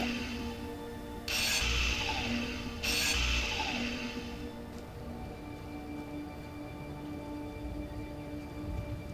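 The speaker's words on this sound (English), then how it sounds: "I would definitely not recommend using a tier 3 grinder to do this job." A tier 3 grinder cuts into a rover arm in a space video game, two short loud grinding bursts over a steady mechanical hum, with no talk.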